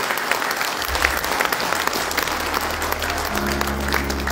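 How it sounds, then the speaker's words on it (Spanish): Loud, steady applause from a crowd at a graduation ceremony, continuous clapping throughout with a low hum entering near the end. "un fuerte aplauso para ustedes mismos, por favor"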